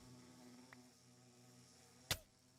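Angry Minecraft bees buzzing faintly and steadily, with a small click early on and a sharp loud hit near the end.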